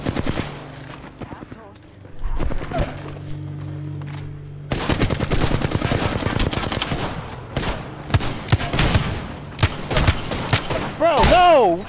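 Rapid bursts of automatic gunfire from an Apex Legends firefight, close and loud, growing denser in the second half, with voices talking over parts of it.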